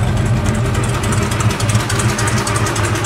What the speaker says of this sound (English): I can hear a little exhaust leak on the crappy full-length headers.